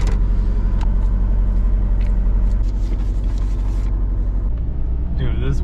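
A Nissan 240SX with an SR20DET turbo engine idling, running rich, a steady low rumbling drone held evenly throughout, heard close with a person speaking over it.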